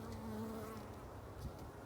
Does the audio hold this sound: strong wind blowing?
no